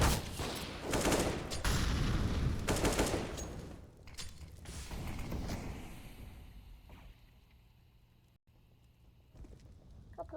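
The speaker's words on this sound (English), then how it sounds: "Couple of shots fired off here, a little bit of damage done on a couple of the players." Counter-Strike match on Mirage with AWP sniper rifles, sharp loud gunfire bursts crowding the first few seconds, then sparser distant shots and game ambience fading toward the end.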